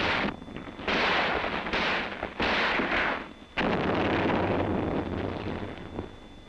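A loud explosive blast and heavy booming gunfire as a gap is blown in tactical wire during an enemy attack on a defended squad position, with bursts of broadband noise, wind buffeting and a sustained rumbling roar after a sharp onset.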